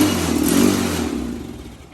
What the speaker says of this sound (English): No, I need give it a little throttle.